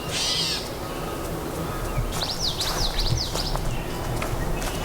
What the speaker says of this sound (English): you can't see catbirds. You can always hear them.